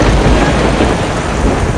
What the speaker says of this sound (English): We're having a proper storm with some really big cracks of thunder right over the top of us.